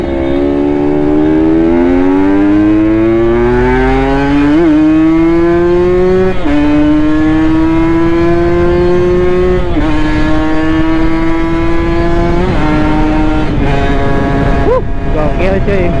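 A Kawasaki Ninja RR two-stroke motorcycle accelerates hard, its engine note climbing steadily through several gears with brief dips at each shift, loud and close throughout with no talk.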